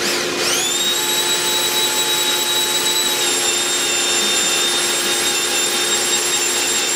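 A water-fed core drill boring into a home's concrete floor for a radon removal system, a steady, loud, high motor whine with a sharp spin-up at the start, then constant and alone.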